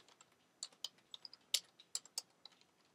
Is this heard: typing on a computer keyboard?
yes